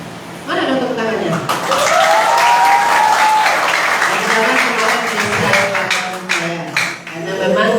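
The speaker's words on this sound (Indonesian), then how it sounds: "Mana dong tepuk tangannya?" Applause from an audience at a village children's forum event in Desa Tanah Merah, steady clapping filling the room for several seconds with voices and some laughter mixed in.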